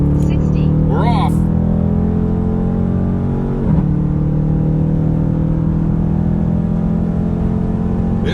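A Dodge Charger R/T with the 5.7-litre V8 pulls hard from 60 mph, its steady low engine drone holding loud and close throughout, with a brief voice near the start.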